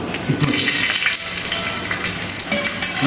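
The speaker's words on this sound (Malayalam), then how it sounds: "ഇതിലേക്ക് നമുക്ക് മുന്തിരി ഇട്ട് കൊടുക്കാം" Raisins drop into hot ghee in a pan for a lentil payasam, a loud, dense sizzle and crackle of frying that continues steadily throughout.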